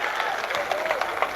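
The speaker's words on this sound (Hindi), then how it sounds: "ऐसी तालियां अपने बिहार का सम्मान में बजा दिया।" Audience clapping at a Bharat Jodo mushaira poetry gathering, a dense crowd patter of many hands filling the short stretch, steady and moderately loud with scattered sharper claps.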